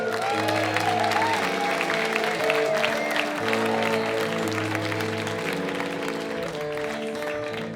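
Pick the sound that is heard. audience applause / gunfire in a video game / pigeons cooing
audience applause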